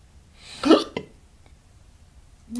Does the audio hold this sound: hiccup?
yes